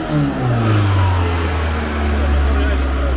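A VAZ 2111 car engine revs up and holds a steady, loud drone, its low pitch rising then settling, with no talking over it.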